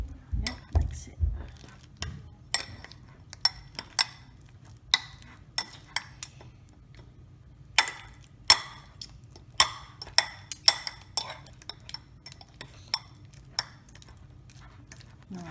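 Banana bread batter stirred in a bowl by hand, with scattered clinks and taps of a utensil against the bowl over a low room hum, close and fairly quiet.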